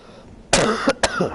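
A person gives a sharp, loud cough up close, followed moments later by a second, shorter cough, with quiet room background between.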